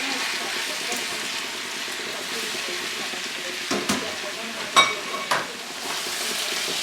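Octopus sizzling and frying in a pan with garlic, onions and tomatoes, a steady close crackle with a few stirring clatters partway through; no talking.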